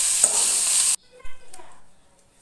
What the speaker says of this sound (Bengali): এই গাছকে চেপা শুটকি ভর্তা বানাই দিচ্ছি, ভালো করে ভাইজে নিয়ে তারপরে ভর্তা বানাই